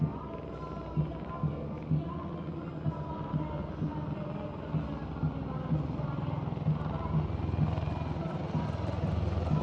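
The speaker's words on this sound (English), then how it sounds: "now flying is the Garud formation, a powerful display of indomitable spirit of our Apache attack helicopters" Apache attack helicopters flying over a Republic Day parade, a steady low rotor drone with rhythmic blade thumps that grows slightly louder and nearer throughout, with faint crowd or background noise beneath.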